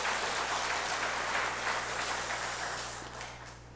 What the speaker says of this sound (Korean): 한번 뜨겁게 박수 한번 해주세요.